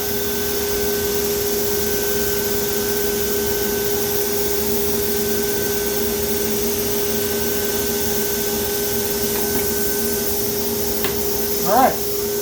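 A Leister hot-air heat welder runs on an oversized vinyl banner, a steady close blowing whine with a constant hum that holds throughout, and a brief knock near the end.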